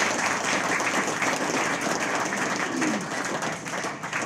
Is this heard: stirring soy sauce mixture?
no